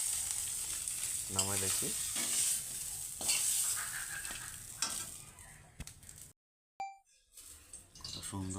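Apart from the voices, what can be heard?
fish head frying in pan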